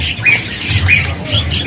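Caged birds in a bird seller's kiosk give short, sharp squawking chirps, about three calls spaced evenly and heard close over a low background murmur.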